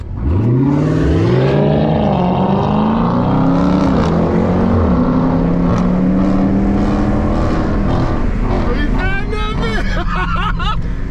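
A car engine revs and pulls away, its pitch climbing through several gear changes, loud and near, with people chattering in the background.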